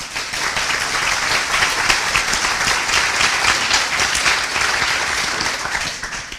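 A welcoming crowd applauds author Catherine Chidgey at a 2023 literary event, a steady, dense wash of many hands clapping throughout with no talk.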